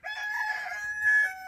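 A chicken crows once in a single drawn-out, close call that rises and holds before breaking off, loud and clear over a quiet background with no talking.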